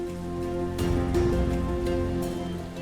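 Steady rain falls throughout, a dense continuous hiss that swells slightly partway through, layered over a low sustained musical drone.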